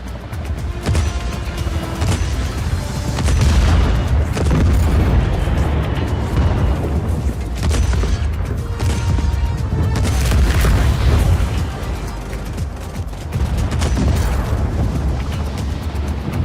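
Video game RPG rocket explosions: heavy, booming blasts roll continuously with deep rumbling and sharp bursts, loud and close, repeating over several seconds.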